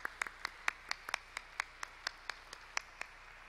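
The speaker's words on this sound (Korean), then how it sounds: "모두 박수하겠습니다." Scattered clapping at a church thanksgiving service, a dozen or so distinct sharp claps in an uneven rhythm, fairly quiet and with no voices.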